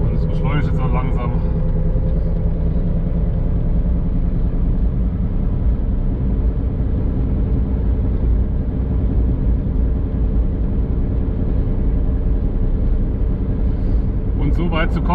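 A converted Audi running on an electric motor, drawing about 70 amps at 360 volts, roughly 25 kW, slowly accelerating: a steady, loud, broadband rumble and hum throughout, with someone talking over it.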